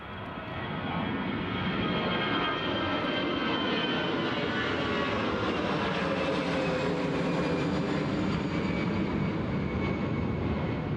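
A jet airliner takes off from Newcastle International Airport bound for Bristol. A loud, steady engine roar swells and holds, with a broad rushing whine across the whole clip.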